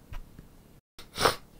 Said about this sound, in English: I had a sneeze, so that's why I had to cut there